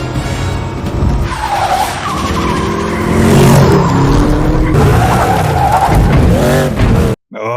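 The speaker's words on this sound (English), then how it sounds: "Love the sound design on that car." A car skids hard in a scene from The Batman (2022), a loud, sustained tire squeal over a roaring engine and dense film sound, ending abruptly in a brief silence.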